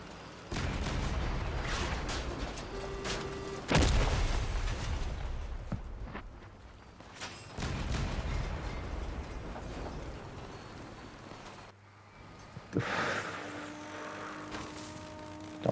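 Gunfire striking a vehicle in Crossout, irregular clattering impacts and bursts, loud and close with brief lulls between volleys.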